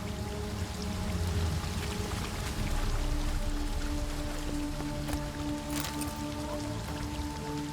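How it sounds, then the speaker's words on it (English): Upward-flowing waterfall in The Witcher 3, a steady pouring splash of water under low, humming tones, running continuously at a moderate level. "A waterfall flowing upwards?"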